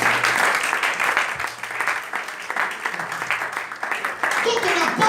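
A congregation applauding at an evening church service, a steady wash of clapping that runs the whole time while a preacher keeps speaking loudly over it.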